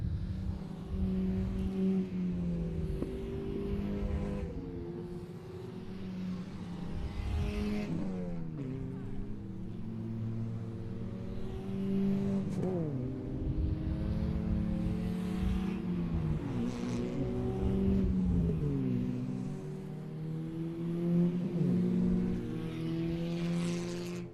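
Race cars at the ICCR 2024 round 2 circuit meeting weave around on a warm-up lap to heat their tyres, engines droning and rising and falling steadily throughout, fairly distant and continuous.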